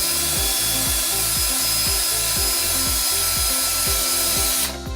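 Drill working into the top of a cardboard advent calendar box, a loud steady whine with a repeating rhythmic grinding pulse, close up and without talk.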